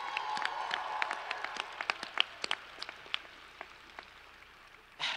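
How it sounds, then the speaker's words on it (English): A graduation crowd in a stadium applauds with scattered, distinct claps ringing out at moderate distance, thinning gradually before a brief louder burst at the end. "can we give them a round of applause for all the support they've given you?"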